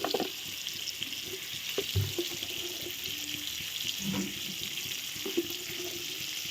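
Potatoes fry in oil in a pan for a chicken curry, giving a steady, soft sizzling hiss with small crackles and occasional stirring or clinking. No one speaks.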